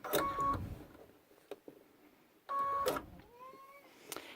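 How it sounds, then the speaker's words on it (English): A home sewing machine stitches a 1/4 inch seam on the bottom of a backpack, sounding as two short, close bursts of whirring motor hum separated by a quiet pause. "And we are going to sew a 1/4 inch."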